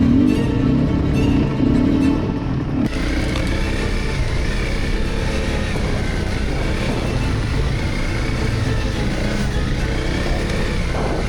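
Honda CRF250L and CRF300L dual sport motorcycle engines chug along an enduro trail, a loud, close, continuous low drone with the pitch shifting as a sharp change occurs near the start.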